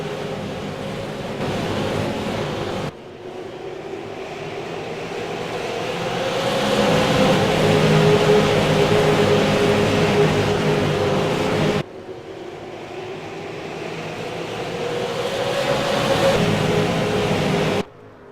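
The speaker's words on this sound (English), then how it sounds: "We're ready to go racing here at Irwindale off of turn 4. Here we go. Green flag flies. The race is underway." Super late model race cars take the green flag at Irwindale Speedway, their engines swelling into a loud, rising roar as the field accelerates off turn 4, broken by a couple of abrupt cuts.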